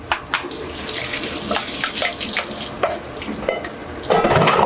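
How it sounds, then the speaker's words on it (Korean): Cold tap water runs steadily over cooked noodles being rinsed in a sink, a close continuous splashing with light handling knocks and a louder gush near the end, no voices. "이제 이 면을 차가운 물로 씻어야 돼요"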